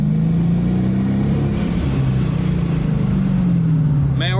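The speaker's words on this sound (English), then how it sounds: "Dude, we just spun tires, dude. Did we just spin all four tires?" A rebuilt, previously wrecked 2018 Dodge Charger police car spins all four tires, its engine holding a loud, steady drone throughout, with a brief higher squeal rising near the end.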